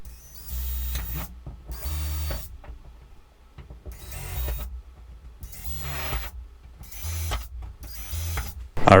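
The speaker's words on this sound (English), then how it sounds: "I will go through and draw or drill a small hole in each one of these" Small holes being drilled for Aerocatch hood pin mounts in a Sunoco hood on a third-gen Camaro: a drill whirs in short, close bursts of about a second each, separated by brief pauses, with no talking.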